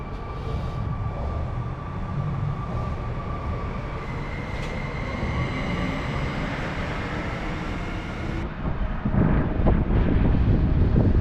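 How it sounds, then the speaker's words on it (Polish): Passenger train bound for Działdowo passing through a Warsaw station, a steady rolling rumble of wheels and carriages with a faint tonal whine, wind buffeting the microphone, and louder clattering as it nears the end. "Przed nami pociąg ze stacji Warszawa Zachodnia, peron 9 do Działdowa."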